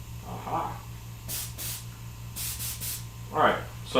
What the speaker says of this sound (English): All right, so I'm now spraying the juice. This is a clear coat.